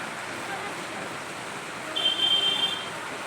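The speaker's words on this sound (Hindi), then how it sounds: "सब लोग बारिश की वजह से यहाँ छुपे हैं, लेकिन कितना सुंदर लगता है" Steady rain falling outdoors, a continuous broad hiss that swells slightly midway, with a faint thin electronic tone briefly sounding over it.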